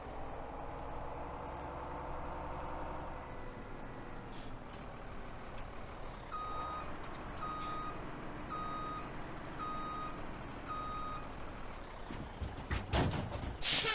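Reversing beeps from a Kenworth K100 semi truck in the Farming Simulator 17 video game, a steady evenly spaced series of tones over a constant engine rumble, with a brief clatter near the end.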